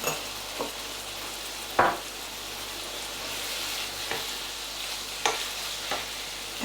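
Minced beef and tomato puree sizzle and fry steadily in a pan, a constant hiss broken by a few sharp scrapes and knocks as the mixture is stirred, with no talking.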